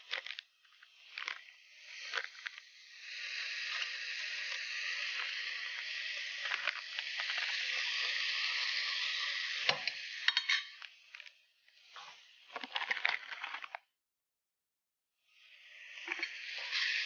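Whole garam masala sizzles and crackles steadily in hot oil in a pot, broken up by clinks and scrapes of a spoon stirring, with a short pause before the sizzle returns.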